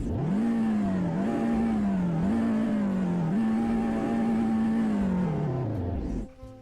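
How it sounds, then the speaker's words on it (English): Engine of a 2000 Honda Civic Hatchback in the Roblox game Greenville revving, a loud, steady whine that climbs and dips through several rev cycles, then cuts off near the end. "Now let's hear this thing rev."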